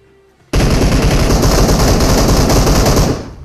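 Sustained automatic gunfire in the BGMI battle royale game breaks in abruptly after a half-second of quiet, then rattles on loud and dense for about two and a half seconds before tapering off, with no voice over it.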